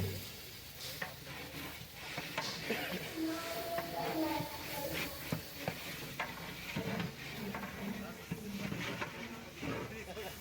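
Ginger garlic paste frying in a pan for a Mahashivratri bhandara sizzles steadily while a spoon scrapes and stirs it in repeated strokes, with people talking over the cooking.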